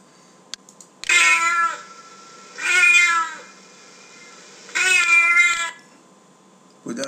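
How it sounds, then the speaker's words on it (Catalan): A library sound-effect cat meowing three times, each drawn-out meow close and clear with quiet gaps between, no talk. "El gat."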